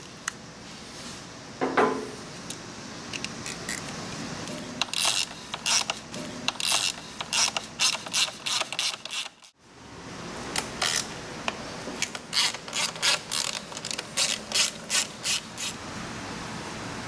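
A hand ratchet clicks steadily as it loosens car subframe connectors, with rapid crisp pawl ticks in repeated runs, close up, and a short pause midway before the clicking resumes.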